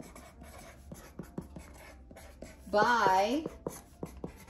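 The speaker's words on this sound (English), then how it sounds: "Now we get to write the end." A pencil writing in a book, with a series of short, faint scratching strokes in an uneven rhythm, interrupted by a voice speaking briefly partway through.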